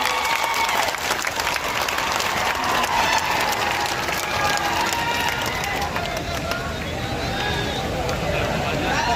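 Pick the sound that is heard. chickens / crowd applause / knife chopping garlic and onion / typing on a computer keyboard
crowd applause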